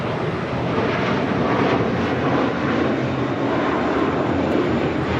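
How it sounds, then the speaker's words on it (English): A JetBlue Airbus A321 jet airliner roars steadily and loudly at an airport, a continuous broadband engine rush that holds level throughout with no speech. "This is an A321 JetBlue flying to JFK flight"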